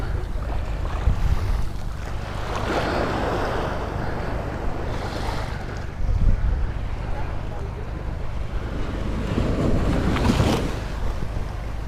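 Surf at Las Vistas Beach in Los Cristianos washes in steady broadband swells with gusts of wind buffeting the microphone. A louder surge comes every few seconds, with faint voices underneath.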